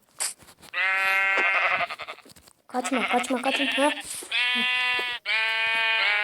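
Several loud, harmonic sheep bleats from Minecraft in quick succession, with a voice talking between and over them.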